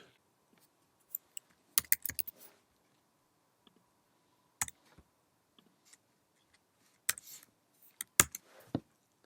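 Typing a SQL query on a computer keyboard in a quiet room, with scattered clicks and short bursts of keystrokes at irregular intervals. The typing is faint and separated by pauses.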